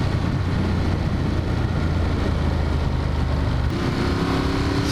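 Ducati Monster 1200 motorcycle engine riding on back lanes, a steady loud drone with low harmonic bands that shifts in pitch near the end as the revs change.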